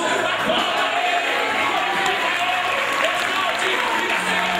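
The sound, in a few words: congregation applauding and cheering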